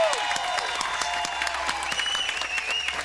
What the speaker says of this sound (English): give Tracy a big round of applause